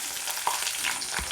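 Dried chilies hit hot oil in a pan for Kerala puliyinji, a brief crackling sizzle with a stir, close and fairly quiet, no voices.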